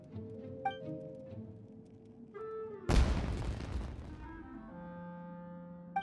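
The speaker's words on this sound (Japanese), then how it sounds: "うわ、花火だ。" A single firework bursts in Genshin Impact, a sudden loud boom with a crackling tail that decays over a second or so, set against quiet tonal game music before and after.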